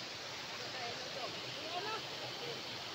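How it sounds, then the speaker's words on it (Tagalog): Kinaraha Falls in Caibiran, Biliran, a steady broadband rush of falling water that holds at an even level throughout, with faint voices nearby. "Ito pala Kinaraha Falls"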